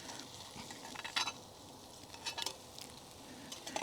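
Eggs frying on low heat in a well-seasoned cast iron pan, a soft steady sizzle broken by a few close scraping strokes of a spatula stirring and loosening them.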